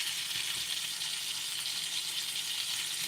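Beef bacon frying in a pan gives a continuous, even, bright sizzle and spatter at a moderate level, steady throughout with no talking.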